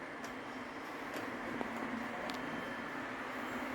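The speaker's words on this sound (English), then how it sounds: "right now I'm running 2 trains around that I know are pretty much the same speed" Two O gauge model trains, a freight and a passenger train, rumble steadily around a track at a train show at a distance, a soft continuous whir with occasional faint clicks.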